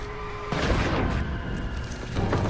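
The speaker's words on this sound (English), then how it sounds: "It's just them kicking in the fence." In the video game Life is Strange: Reunion, a fence is kicked in: two heavy booming impacts, one early and one later, over a low rumbling ambience.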